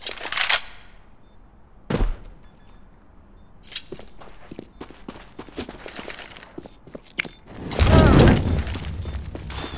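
A grenade goes off in Counter-Strike: Global Offensive: scattered thuds and shots lead to one loud, close, booming blast near the end, with a sharp crack earlier on.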